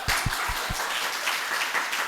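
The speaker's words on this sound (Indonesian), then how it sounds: "mungkin oke, tepuk tangan dulu" An audience applauds at an Innovation & Creation Week student event, a dense steady patter of clapping that holds at an even level for about two seconds.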